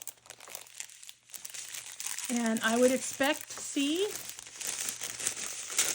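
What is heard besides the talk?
plastic bags crinkling while unpacking an Amazon haul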